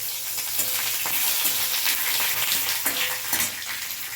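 Black cumin seeds, green chilies and bay leaves frying in hot oil make a steady, close sizzle with faint crackles throughout, no voices over it.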